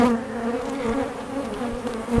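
Honey bees buzz steadily at an open hive while swarm cells are checked on a brood frame outdoors, a close, dense drone with a sustained hum and no talk.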